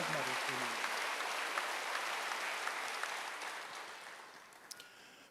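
A church congregation at a Wednesday worship service breaks into sustained applause that fades gradually, with a few scattered claps and a brief voice near the start.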